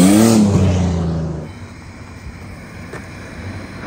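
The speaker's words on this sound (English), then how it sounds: "He just drove right by." A car passing close by, a loud engine rush that fades quickly into quiet background noise.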